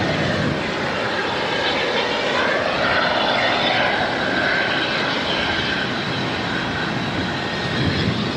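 An Air New Zealand A321neo, flight NZ534 from Christchurch, arrives at Auckland Airport with a loud, steady broadband engine roar and whine that holds for the whole stretch and eases slightly near the end.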